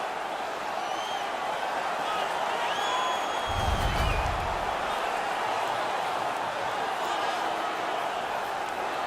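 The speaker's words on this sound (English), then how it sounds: "The crowd is ecstatic." Hockey arena crowd cheering after a fight in a Toronto Maple Leafs versus Ottawa Senators game, a dense steady roar of many voices filling the space, with a brief low thump partway through.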